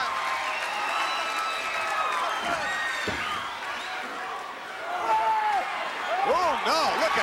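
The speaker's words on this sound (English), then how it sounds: "And this capacity crowd coming alive." A capacity arena crowd at a 1986 wrestling show swells into a loud, continuous roar of cheers and clapping, and a commentator talks over the noise throughout.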